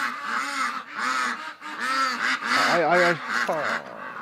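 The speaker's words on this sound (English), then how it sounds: "Yeah, I know, ducks." Several ducks quacking and honking nearby in winter in an almost continuous run of raspy calls, some rising in pitch.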